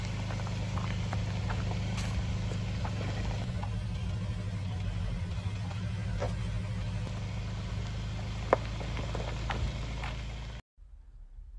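A 2021 Kia Sorento on extra-load tires cruises along a road toward an off-road trail. A steady low engine and road drone fills the cabin with faint ticks, then cuts off abruptly near the end.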